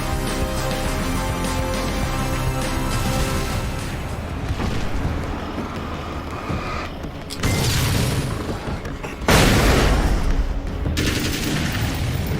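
Loud, dense gunfire and booming blasts from the video game Alan Wake's American Nightmare roll on continuously, swelling into heavier, sharper volleys toward the end.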